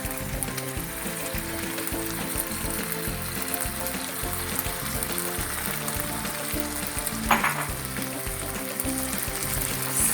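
Tofu and spring onions frying in a pan for pad thai, a constant dense sizzle close up with a brief scrape of stirring partway through, no voices.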